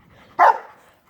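A pet dog gives a single sharp, close bark that ends quickly in near silence.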